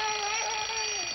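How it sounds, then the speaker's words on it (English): A bedside alarm clock rings steadily and loudly in a bedroom, a continuous metallic jangle with no pause. "Darling, alarm."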